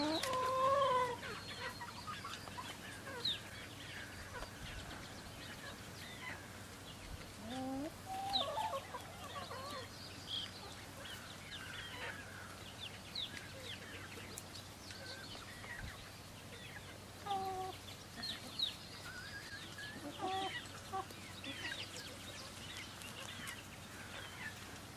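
Chickens and chicks on a farm cluck and peep softly in a quiet yard, scattered calls coming and going throughout at a modest distance.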